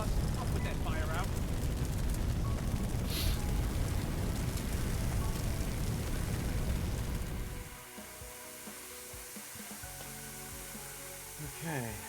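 A fire hose sprays water in a firefighting video game, a loud, steady hissing rush that cuts off abruptly partway through, leaving quieter background game sounds.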